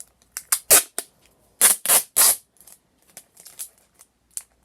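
Sharp, irregular crunching clicks come up close and loud as a cat chews on something hard, with short pauses between bites.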